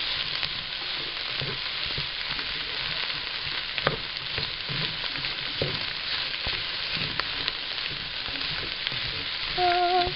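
Celery sizzling in a pot for gumbo, a steady frying crackle throughout with occasional spoon scrapes and stirring knocks up close.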